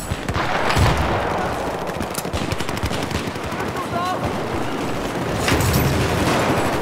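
Gunfire in a Battlefield 4 multiplayer match on Lost Islands: dense, continuous rapid shots and battle noise, with a louder blast near the start and another near the end.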